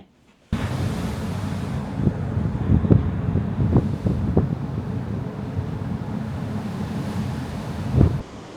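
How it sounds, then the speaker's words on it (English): Strong wind buffeting the microphone on an open ship deck, a loud continuous roar with gusty thumps and a sea-like rush beneath. "it's a little bit wild and windy"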